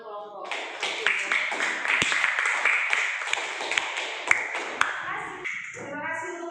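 A classroom group is applauded with a round of light, scattered hand claps and taps running several seconds, mixed with voices talking over it.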